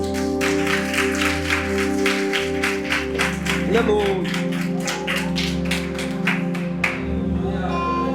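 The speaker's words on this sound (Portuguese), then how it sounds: "Aplauda Ele, que Ele merece." A church congregation claps steadily in rhythm through a sustained keyboard chord, with a preacher's voice calling out over the clapping before it thins toward the end.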